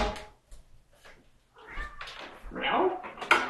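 A few thumps and knocks followed by a cat's drawn-out, whiny meows, close and growing louder toward the end.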